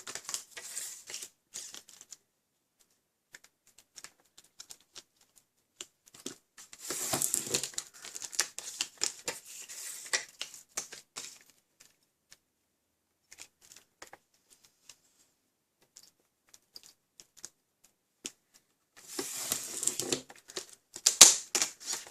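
A paper trimmer slices through cardstock in quiet, scratchy bursts with brief pauses between them, up close and without speech.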